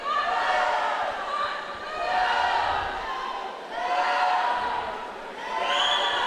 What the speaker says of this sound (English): All of these teammates cheering them on in the pool.